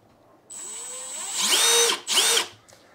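Milwaukee M12 Gen 3 FUEL impact driver spinning at its fastest speed 3 setting, a close, loud high whine that ramps up, runs steadily, cuts off briefly, then revs again in a second burst.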